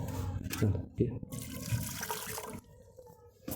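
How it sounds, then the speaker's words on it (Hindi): Hot water poured from a vessel into a cooking pot for Punjabi sarson saag, a loud rushing and splashing pour with someone talking over it. "पानी को अब हम इसके अंदर डाल देंगे।"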